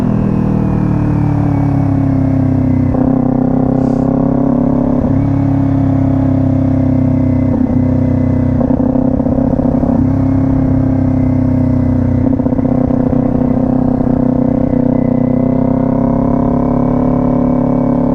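A motorcycle engine hums steadily and loudly up close, its pitch dropping and rising in stepped surges as the rider rev matches through clutch-in, off-throttle gear shifts, with no talking.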